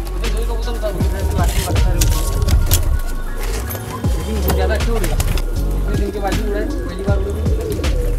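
Domestic pigeons flap and coo close by over a steady patter resembling dripping water, with a murmur of voices in the background.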